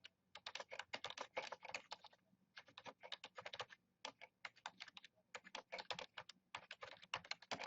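Steady, rapid typing on a computer keyboard while writing a note, the clicks close and quiet, coming in quick bursts with short pauses between them, with no voice over it.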